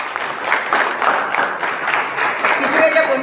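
Audience applause at a college NSS special camp event in Chandrapur, welcoming a guest: dense steady clapping from a crowd, moderately loud and continuous throughout with slight swells.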